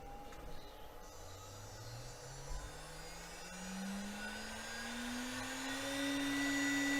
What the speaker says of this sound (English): I'll run the spindle up,